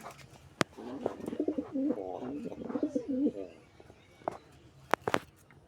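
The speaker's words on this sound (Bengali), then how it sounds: "খুব ভালো এক জোড়া কবুতর আমার" Pigeons coo softly nearby in a repeated warbling burst, with a few sharp taps and rustles before and after.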